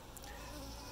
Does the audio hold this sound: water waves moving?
no